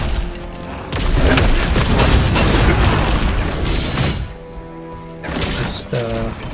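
A boss's burst attack in Khazan erupts in a long, loud booming barrage of blasts and crashes, fading after a few seconds into scattered hits and ringing tones.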